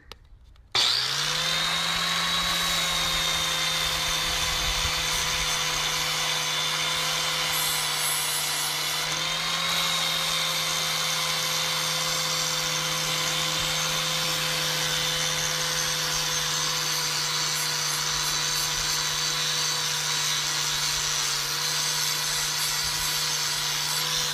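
A handheld power tool fitted with a sanding flap disc spins up and grinds continuously against a table surface, giving a loud, sustained whine with a steady pitch throughout.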